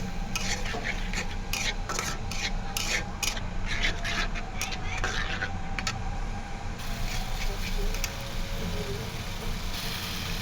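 A spoon or spatula stirs softened onions and deboned fish in a pan: repeated close scraping and rubbing strokes, denser in the first half, over a steady low kitchen hum.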